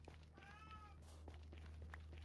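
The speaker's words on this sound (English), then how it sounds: "hey kitty." A cat meows once in a Minecraft game, a short rising call heard over a steady low hum and faint game noises.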